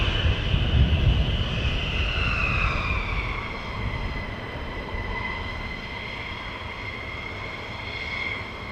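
A military jet approaching to land at RAF Lakenheath gives a loud, steady roar with a sweeping whine that shifts in pitch as it nears and passes, strongest at first and then easing slightly.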